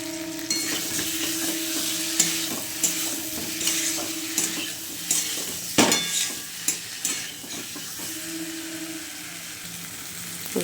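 Potatoes stirred into a cooked-down spice paste in hot oil: a steady close sizzle broken by repeated clinks and scrapes of a spatula against the pan, with no voices over it.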